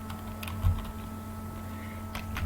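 A file name is typed on a computer keyboard in quick, light clicks at an uneven pace, close to the microphone over a steady low electrical hum. There is no speech.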